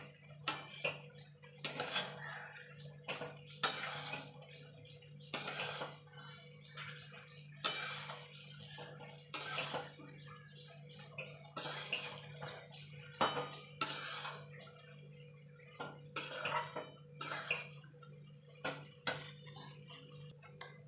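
Roasted spice being stirred into sweet mango pickle cooked with jaggery in a pan, a quiet, unhurried series of spoon scrapes and clinks against the metal, spaced a second or two apart over a low steady hum.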